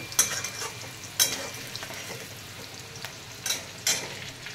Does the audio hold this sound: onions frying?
yes